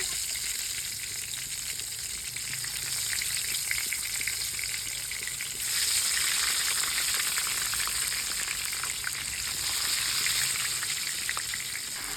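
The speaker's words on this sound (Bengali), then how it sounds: "এপাশে আলুটা ভেজে নিচ্ছি।" Potatoes and eggplant, rubbed with chilli, turmeric and salt, fry steadily in hot oil with a dense, continuous sizzle that swells louder about halfway through and holds without any talk.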